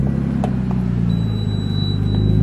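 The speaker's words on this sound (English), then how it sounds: "we'll do a bit of a hot start for you guys so you can kind of understand how quiet it is now" A Nissan Skyline fitted with a new, quieter exhaust muffler hot-starts and settles into a steady, low idle rumble, with a faint high whine from the gauges running throughout.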